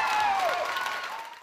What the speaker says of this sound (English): Deafening applause filling the air Monday night as this crowd heard the Penn Manor School Board's decision